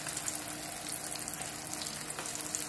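Pork chops sizzle in oil in a hot pan over a high flame, a dense, steady crackle and hiss heard up close at a moderate level with no talking.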